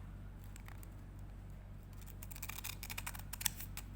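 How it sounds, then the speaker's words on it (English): Scissors snip through fusible appliqué material, cutting a piece in half: a quick run of faint, crisp cuts over a low steady hum, growing a little sharper toward the end. "Now what I'm going to do, I'm going to cut this in half."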